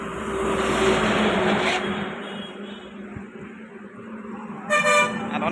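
Car horns honk amid jammed road traffic in a rural Indian setting, with a long steady horn tone over engine rumble and a brief sharp honk near the end.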